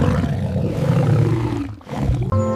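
A cartoon-style dinosaur roar sound effect in a children's color-learning balloon game: one loud, sustained growling roar that dips briefly, then ends in a short tonal burst, with no talking.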